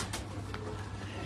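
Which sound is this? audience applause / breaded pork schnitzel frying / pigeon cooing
pigeon cooing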